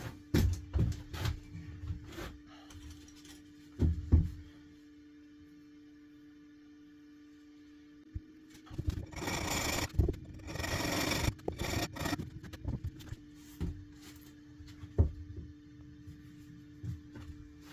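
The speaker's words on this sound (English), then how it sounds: "they are diamond encrusted, so they've got industrial diamonds on them" An industrial-diamond-coated rasp files a stone sculpture in short scraping strokes. A dense burst of rapid rasping comes midway, over a faint steady hum.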